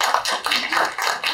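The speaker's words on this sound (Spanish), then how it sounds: "Escuchen esos aplausos." Guests at a wedding reception in a Houston reception hall break into applause, a dense, bright crowd clapping that swells and pulses in waves, fairly loud and close, with no speech over it.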